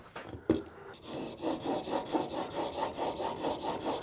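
A chisel clamped in a honing guide is pushed back and forth across a sharpening stone in a woodworking workshop, giving a steady, close, rhythmic rasping scrape of about two strokes per second.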